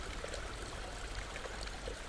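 Fresh water from Rome's aqueduct runs steadily from a public drinking fountain, a close, continuous trickling and splashing with no pauses.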